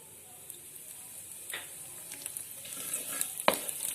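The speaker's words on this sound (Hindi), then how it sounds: "हमें इसे हिलाते रहना है।" Jaggery mixture with fennel seeds being stirred in a pan, a soft steady sizzle broken by scraping strokes and a few sharp spoon clicks, one louder knock near the end.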